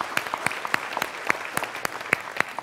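Sparse applause at a keynote address, with scattered individual claps standing out at an uneven rhythm over a quiet hall, fairly distant and light rather than a full ovation.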